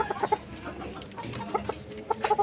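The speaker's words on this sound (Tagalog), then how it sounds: "Takot yung manok sa akin guys." A chicken clucks in short nervous bursts close by, several quick clucks at the start and a cluster near the end over quiet background.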